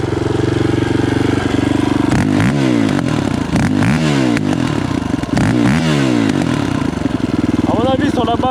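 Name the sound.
quad bike engine revving and backfiring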